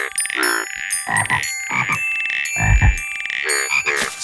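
Cartoonish croaks from frogs in a children's counting video game, a series of about seven loud, tonal ribbits in an uneven rhythm, alone with no talk.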